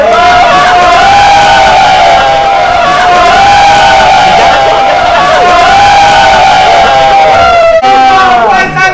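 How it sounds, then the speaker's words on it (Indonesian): Crowd noise at a Mobile Legends gaming tournament, with loud cheering and whooping from many voices blended with an announcer's amplified speech, sustained throughout and close. "Sekali lagi kita berikan tepukan"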